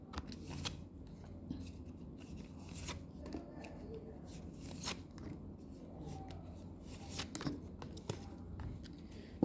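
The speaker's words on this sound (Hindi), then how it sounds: "थोड़ा सा मैं शफल कर लूँ" A deck of tarot cards is shuffled by hand, making soft, close bursts of riffling and sliding cards in an irregular rhythm against a quiet room.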